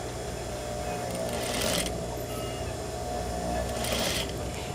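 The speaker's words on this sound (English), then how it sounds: "And I'm going to continue sewing this down at 1/4 inch seam allowance." A sewing machine back stitching a fabric seam at a quarter-inch allowance runs with a steady mechanical whir and rattle, swelling slightly twice, close and alone without talk.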